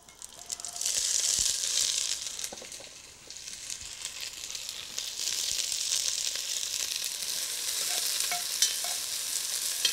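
Chopped leeks frying in browned butter in a pot, a steady bright sizzle with occasional stirring scrapes and crackles, close and continuous without talk.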